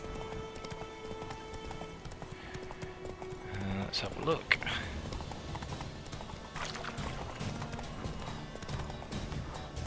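Roach, the horse in Witcher 3, gallops with steady hoof clip-clops and a brief whinny under a voice speaking.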